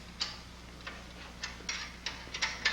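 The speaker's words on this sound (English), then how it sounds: "Use the ratchet." A 1/2 inch socket and ratchet turning a fastener during an auxiliary fuel tank install on a Honda ST1100, giving a sparse series of quiet, crisp pawl clicks spaced irregularly, close up with no talking.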